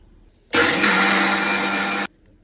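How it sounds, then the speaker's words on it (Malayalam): A mixer grinder jar grinding soaked batter runs in one loud, steady burst of about one and a half seconds, starting and stopping abruptly, with near silence before and after and no speech. "ഇനി നമുക്ക് മിക്സി ജാറൊന്ന് അടച്ചിട്ട് അരച്ചെടുക്കാം"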